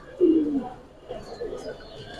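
Giribaz and coloured pigeons kept on a rooftop loft in Lalbagh, Dhaka, with one bird giving a short, near, low coo and a faint second call, while people talk quietly in the background.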